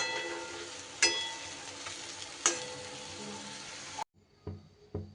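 Cauliflower-stalk koftas sizzle steadily in hot oil, a dense continuous frying hiss broken by two sharp spoon clanks before the sizzle cuts off, leaving a few soft knocks in near silence.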